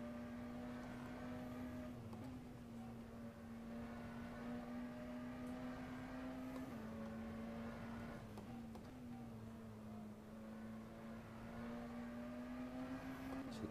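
McLaren Senna GTR race car engine in rFactor 2 during a mixed class race at Sveg, a loud, steady droning tone held throughout with small pitch dips and rises as the throttle shifts.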